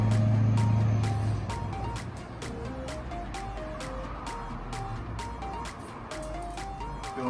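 A truck outside rumbles loudly at first and then fades into a lower, steady engine hum, with regular rhythmic clicks and tones layered on top.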